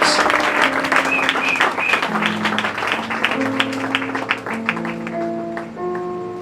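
A church congregation at a seminar applauds, a dense, sustained round of clapping that fades gradually while organ or keyboard chords play underneath.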